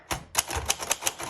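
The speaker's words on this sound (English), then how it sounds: "So that's the basics of using a typewriter." A 1928 Royal Portable typewriter types in a quick run of about six crisp, close keystrikes, each a sharp clack, with no voice.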